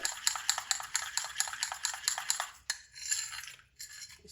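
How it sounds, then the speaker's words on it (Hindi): A spoon stirring lemon juice into a homemade face pack in a small bowl: rapid, regular clinking scrapes for a couple of seconds, then a few slower, quieter strokes, close and fairly soft. "अब इसको अच्छी तरह मिक्स करेंगे।"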